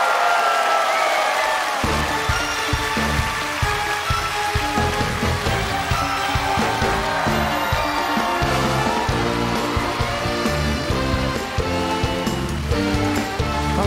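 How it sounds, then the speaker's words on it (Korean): An audience at an open-air televised music concert applauds to welcome singers onto the stage, a dense, loud, continuous wash of clapping that rises sharply after a brief quiet start as music begins underneath. "여러분 뜨거운 박수로 맞아주시기 바랍니다"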